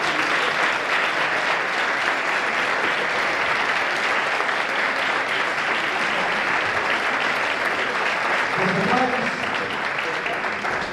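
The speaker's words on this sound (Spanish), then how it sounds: "Un aplauso para ti, al trabajo." Audience applause at a Christmas music gathering in Asturias, a dense, steady roar of clapping that fills the whole stretch, loud and sustained with no break.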